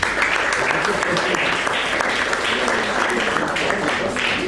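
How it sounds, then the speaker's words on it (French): A slam poetry audience applauds a poet, sustained dense clapping across the whole stretch with some crowd voices blended in. "On peut applaudir le poète."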